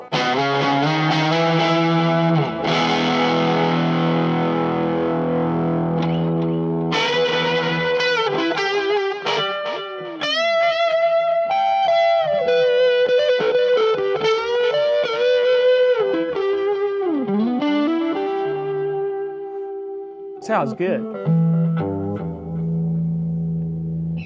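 Electric guitar through a Rat distortion pedal, thick, low-heavy and creamy: ringing sustained chords give way to fast distorted lead runs and bends, loud and close, with a brief spoken comment near the end.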